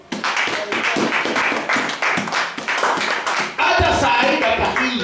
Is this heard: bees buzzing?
no